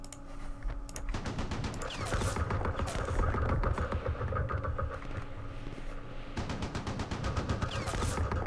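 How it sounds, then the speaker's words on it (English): Artillery barrage in the Vietnam war game Campaign Series Vietnam, at the Battle of Ia Drang: a dense, sustained rumble of explosions and rattling gunfire that runs throughout, with a brief lull near the middle before the fire swells again. "Let's call in our artillery."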